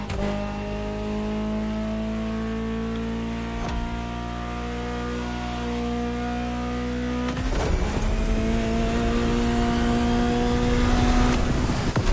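Ferrari supercar engine in The Crew Motorfest, a sustained loud drone holding steady revs, then a sharp shift midway into a rising, harder acceleration that swells toward the end, heard alone.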